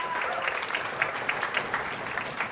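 Audience applause at a high school band concert, a steady wash of many hands clapping in a hall, sustained and fairly loud throughout with no talk over it.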